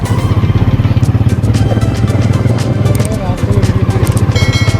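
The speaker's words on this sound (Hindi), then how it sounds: "जल्दी से हम बाइक पे बैठ जाते हैं। अभी हम जा रहे हैं चनियोट।" Motorbike engine running as riders set off on the road, with a loud, rapid, even throbbing pulse that continues throughout. There are brief clattering ticks on top.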